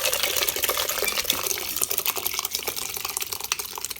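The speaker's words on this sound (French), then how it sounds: "Mettez un petit de l'eau là-dedans." Water poured into a pot of dal cooked with mutton, a continuous close splashing and trickling pour with small clinks, steady and fairly loud throughout.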